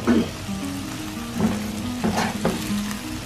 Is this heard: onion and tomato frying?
yes